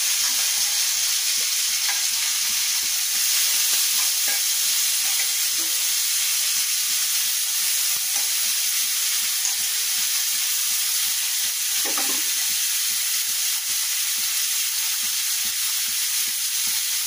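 Salted bitter gourd slices fry in oil, a constant bright hiss and sizzle held close and loud throughout, with a few faint clinks from stirring beneath it.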